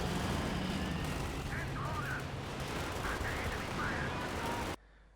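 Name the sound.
video game machine gun and 7.5 cm gunfire, Flampanzer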